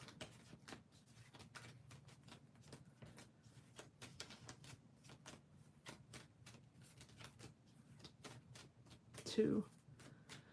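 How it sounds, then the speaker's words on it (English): A deck of tarot cards is shuffled during a live tarot reading, giving a long run of rapid, crisp riffling clicks at close range, ending in a brief louder flurry near the end. "Let me just shuffle the other deck"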